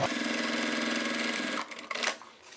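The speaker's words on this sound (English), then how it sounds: "We're sewing the side seam of the side panel." A sewing machine stitches the side seam of a toiletry bag side panel, a fast steady mechanical whirr for about a second and a half that then stops, followed by a few soft handling clicks.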